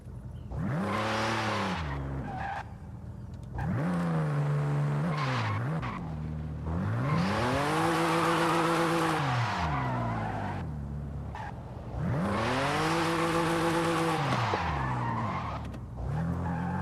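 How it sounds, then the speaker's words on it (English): A car spinning reverse donuts in Forza Horizon 5, with long loud rising and falling tire squeals over a revving engine, repeating in several sweeping cycles close up. "Some reverse donuts."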